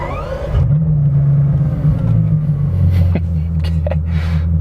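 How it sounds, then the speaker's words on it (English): A Bugatti Chiron on the move, its engine rumbling and shifting in pitch as it accelerates, loud and close with steady drive noise throughout. "just so you can see what the Chiron looks like on the move"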